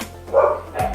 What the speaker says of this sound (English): Who's barking? A dog.